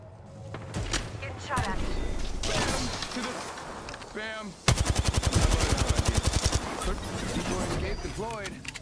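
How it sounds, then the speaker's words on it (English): Gunfire in the Apex Legends video game: scattered shots at first, then a sustained loud burst of rapid automatic fire, mixed with game effects and a character's voice talking. "Opening fire. Making contact here."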